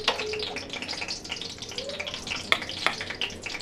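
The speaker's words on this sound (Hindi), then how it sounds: "सबसे पहले हम इसमें जीरा डालेंगे" Cumin seeds crackle and spit in hot oil, a busy close sizzle with a couple of sharper pops near the end.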